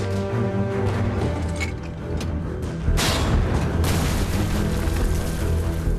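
Heavy German artillery shelling in World War II Normandy near the Abbaye d'Ardennes, with deep booms and rumbling blasts over a dense, continuous roar that surges louder midway.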